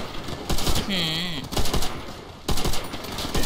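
Gunfire in the World War II shooter game Call of Duty: World at War: close, loud bursts of rapid automatic fire with short gaps between volleys and a brief whistling tone partway through.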